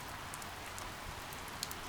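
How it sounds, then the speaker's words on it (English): Rain batters down steadily on a street, a dense continuous hiss with occasional sharper drops standing out. "rain continues to batter down on the street"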